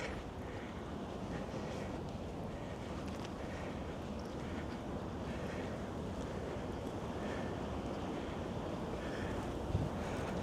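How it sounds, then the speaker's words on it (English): Ocean surf and strong wind on an Oregon beach near Astoria, with a steady broadband roar of gusts buffeting the microphone over distant waves, continuous and fairly loud with no talking. "I can hear the ocean a little bit"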